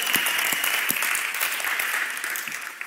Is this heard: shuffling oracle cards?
no